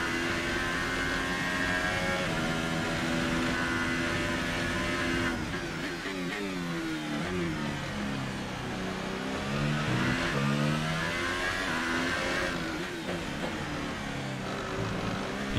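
Formula 1 car engine sputtering and cutting out on the Baku street circuit in a racing video game, a sustained revving whine that breaks into uneven, stuttering pitch swoops partway through.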